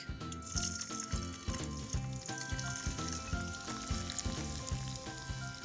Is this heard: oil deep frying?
yes